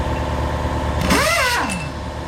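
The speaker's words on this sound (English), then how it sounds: "Don't stop till you hear that compressor kick on." An air compressor kicks on in a shop during work on an AMC 304 engine for a CJ5 Jeep. A rising, then falling mechanical whir swells for about a second over steady background hum.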